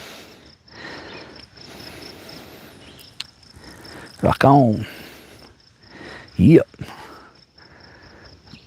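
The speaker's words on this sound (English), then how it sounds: "I assume you can hear the crickets." Crickets chirp steadily at a mountain lake campsite, a faint continuous trill running under casual nearby talk and a couple of short louder vocal bursts.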